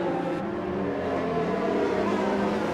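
Ferrari race car engine in a PC racing game at Shanghai, a steady loud droning roar held at high revs throughout, running alongside another car with no break.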